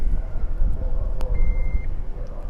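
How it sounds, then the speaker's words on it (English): A single short electronic beep from a 2021 Buick Envision's power tailgate rings out over a steady low rumble of vehicle and background noise. "press and hold this button until you hear a beep"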